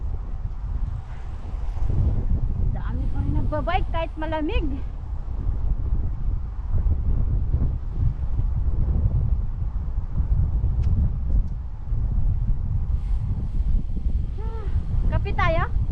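Strong wind roars steadily into the microphone on a cold outdoor bike ride, a constant low buffeting throughout, with people talking and exclaiming over it at several points.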